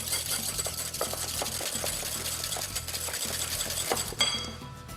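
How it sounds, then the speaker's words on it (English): Two separated egg yolks whisked in a bowl, a rapid, steady run of close metallic ticks and clinks against the sides that keeps going for several seconds. "Now give that a really nice whisk."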